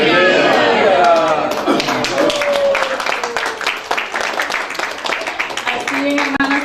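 A church congregation bursts into applause to welcome a first-time visitor, a loud, sustained wash of clapping that gradually thins out while a voice speaks over it.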